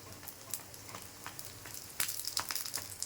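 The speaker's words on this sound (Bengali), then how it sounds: "একটু কড়া করে ভাজতে হবে।" Pumpkin flower fritters crackle and sizzle in hot oil, a steady close frying hiss that bursts louder and more spattery in the second half, with no talking.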